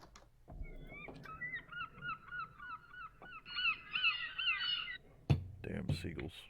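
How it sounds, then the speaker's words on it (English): Seagulls in the video game Westcreek call in a run of repeated squawking cries, fairly close and loud, with a few clicks and thumps around them. "Damn seagulls."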